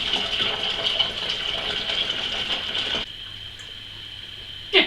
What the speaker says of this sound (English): So now let's top it up with some cold water.